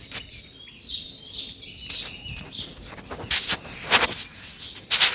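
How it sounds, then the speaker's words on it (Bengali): Morning birds sing around a quiet village home, with thin chirps and short calls rising near and far over soft shuffling and rustling. "পাখি ডাকছে"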